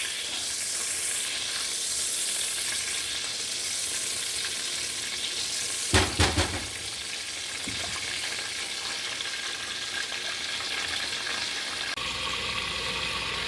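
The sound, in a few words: butter melting and sizzling in a pan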